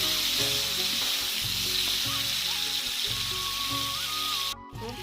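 Onions and green chillies fry with beans in a pan, a steady close sizzle with rhythmic stirring scrapes, no talk, ending in a brief pause.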